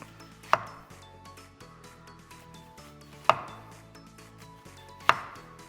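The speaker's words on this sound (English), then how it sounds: "thinly slicing some raw onion" Three sharp knife chops thinly slice raw onion on a cutting board at slow, uneven intervals, close and crisp, over a low background hum.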